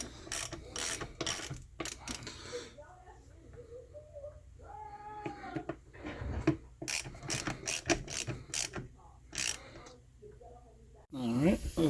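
A hand ratchet turning a T30 Torx bolt during belt replacement on a 2002 Mini CVT, with repeated sharp ratcheting bursts broken by pauses and metallic mechanism noises, close and loud.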